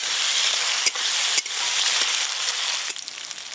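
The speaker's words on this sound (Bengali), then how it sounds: "টমেটো কুচি, লবণ, মশলাটা বেশ ভালো করে এবার কষে নেব।" Chopped tomato, salt and spices sautéing in a pan for vegetarian ghugni, a loud continuous sizzle with a couple of brief stirring scrapes, close and without talk.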